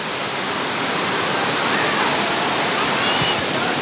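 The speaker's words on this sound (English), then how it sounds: "Not only is it a gorgeous waterfall, but they also do cliff diving here." Annandale Falls in Grenada pours steadily in a loud, continuous broadband rush of falling water, close and unbroken throughout, with no voices heard over it.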